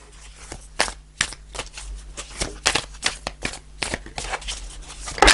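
Tarot cards being shuffled by hand, a run of crisp papery riffles and snaps in quick uneven bursts, close and fairly quiet, with a louder flutter at the end.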